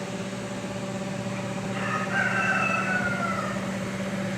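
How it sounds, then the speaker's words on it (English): A rooster crows once, long and clear, among chickens in a barn area at Oglebay Good Zoo in Wheeling, West Virginia. A steady low hum runs underneath throughout. "Got some chickens out here."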